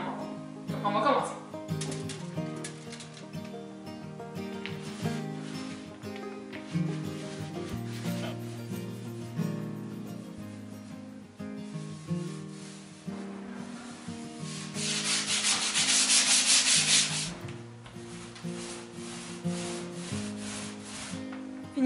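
A brush lays the first coat of paint onto an IKEA dresser, producing a steady rubbing and swishing with a louder burst of strokes near the end, under continuous background music.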